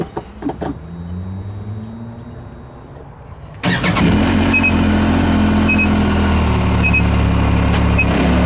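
A 2017 Can-Am X3 engine starts and settles into a steady idle while a short seatbelt warning beep repeats at regular intervals over the engine noise.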